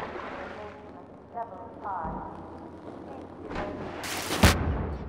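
Gunfire in Half-Life 2, a few sharp loud shots bursting near the end amid game sounds, with someone talking excitedly over the action.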